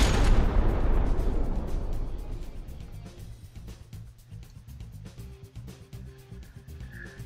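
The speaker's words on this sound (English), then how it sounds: "Oh, those shells are awfully close to that turret." Artillery shells fire in the naval combat game From the Depths, opening with a loud heavy boom that rolls off over a few seconds, then a steady rumble with faint repeated pops and distant thuds.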